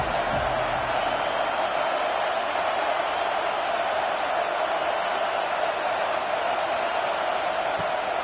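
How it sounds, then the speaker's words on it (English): Stadium crowd noise in the Madden 25 football video game, a steady, dense roar of many voices swelling on a defensive third down, continuous and fairly loud throughout without a clear break. "Decibels rising as the crowd gets behind this defense on 3rd down."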